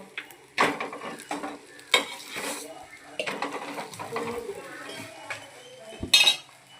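An oiled samosa sheet is turned over on a hot pan, giving a few close metallic clinks and scrapes of utensil on the pan over a faint sizzle, with quiet pauses between the handling sounds.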